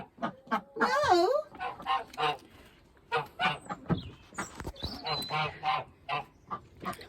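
Ducks in a garden quack and honk loudly and close by, a rapid, uneven run of nasal calls that keeps going throughout.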